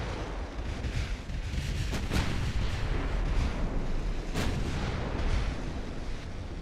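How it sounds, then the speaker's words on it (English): Heavy naval gunfire from battleship main guns in the warship strategy game Ultimate Admiral, a sustained rumbling barrage with several sharper booming reports standing out over continuous low roar. "Massive hits, though, from the big guns."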